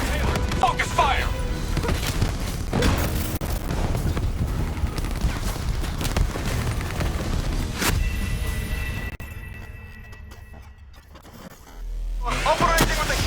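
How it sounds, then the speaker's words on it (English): Explosions and heavy weapons fire from Javelin missiles in the Call of Duty Black Ops 3 campaign, with loud dense blasts and rumble through most of the stretch, a brief quieter lull, then renewed booming. "Javelin missiles incoming!"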